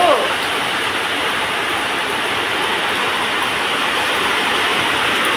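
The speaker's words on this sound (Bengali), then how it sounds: "বৃষ্টিটা ভালোই এসেছে, কি শব্দ!" Heavy rain with big drops pours down steadily in a dense, even hiss, close and loud with no pauses, while a voice talks over it.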